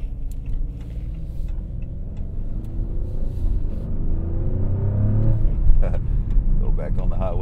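A 2023 Maserati Grecale Trofeo sports SUV speeds up on a highway, its engine rumbling low and steady beneath road and cabin noise, swelling slightly toward the end as the driver works the paddle shifters, with talk nearby.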